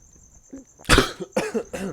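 A short muffled cough from someone suppressing a burp, followed by a couple of smaller throaty coughs, close and abrupt.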